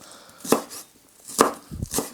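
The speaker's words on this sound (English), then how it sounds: "Just slice them into little chunks like this." Knife slicing spring onions on a chopping board for mushroom fried rice, three or four crisp, sharp chops spaced unevenly, close and clear with no talk.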